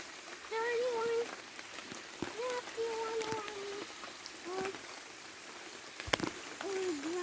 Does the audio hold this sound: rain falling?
yes